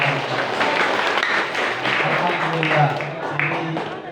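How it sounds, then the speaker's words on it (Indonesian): Applause for the chairman at a gathering of an Indonesian Islamic education college: a crowd claps steadily and loudly, mixed with voices calling out over the clapping. "Tepuk tangan buat ketua."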